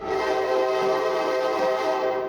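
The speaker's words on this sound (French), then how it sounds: "ça doit être compliqué de s'entendre avec des trains qui passent juste en dessous de nous" Pokémon Black game audio of trains rolling beneath a railway bridge, a steady sustained rumble with layered tonal horn-like hum, continuous and fairly loud throughout, no voices.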